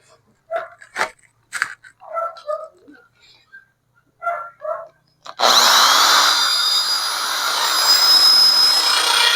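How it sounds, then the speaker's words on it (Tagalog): A power drill bores into the broken lock mount of a Sniper 155 motorcycle fairing, starting abruptly after a stretch of talk and then running loud and steady with a harsh high whine to the end. "Drill natin."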